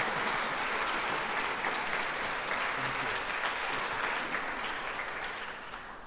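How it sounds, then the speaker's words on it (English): Steady, dense applause from an audience at the opening ceremony of a Native American art exhibition at Dartmouth, sustained throughout and tapering slightly near the end. "Please give them a warm and heartfelt round of applause."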